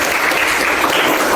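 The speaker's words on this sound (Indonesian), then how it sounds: "Oke, tepuk tangan dulu." Classroom applause from students in a mathematics lesson, a dense, steady burst of clapping filling the whole short moment with no talk over it.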